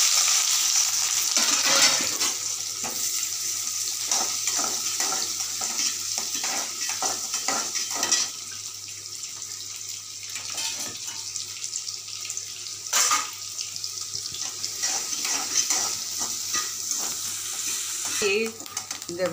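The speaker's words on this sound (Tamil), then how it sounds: "150 பல்லாரி வந்து நறுக்கி எடுத்து வச்சுருக்கேன். இதை வந்து நல்லா கோல்டன் ப்ரௌனாக வதக்க போகிறேன்." Continuous sizzling of sliced big onions frying golden brown in hot oil, broken by repeated scraping and stirring sounds from a spoon against the pan; no talking.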